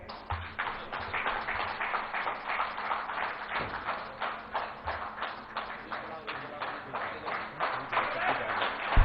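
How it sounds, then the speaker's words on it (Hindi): A seated audience claps at a Samvaad 2023 event. The claps land in a fairly regular rhythm, moderately close, with a steady patter that rises slightly toward the end. "तालियां बजती रहें।"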